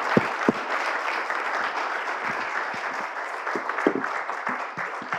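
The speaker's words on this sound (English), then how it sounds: "Can you get an applause for the panel?" Applause from a seminar audience for a university panel discussion, a steady moderate patter of many hands continuing evenly throughout, with a few sharper low knocks scattered in.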